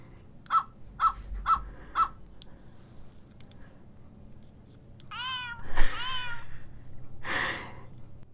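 A toy pet doll from a spooky fashion doll line gives four short, evenly spaced electronic barks, then a sweeping synthetic meow and a second cry, all loud and close, with no talking.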